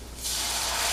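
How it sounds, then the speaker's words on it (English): Beer poured onto caramelized onions in a hot pan sets off a loud, steady sizzling hiss that jumps up after a brief quieter start and holds bright and close for the rest of the moment. "you can add about half of a 12-ounce bottle of beer"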